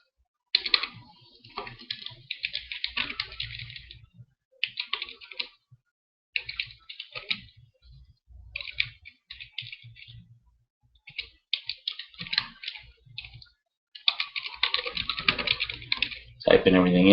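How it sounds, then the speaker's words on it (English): Someone types on a computer keyboard, bursts of quick, close key clicks separated by short pauses, with a voice talking between and over them. "Typing everything in here."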